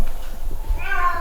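A single short, fairly loud cat meow rises out of low room noise near the end.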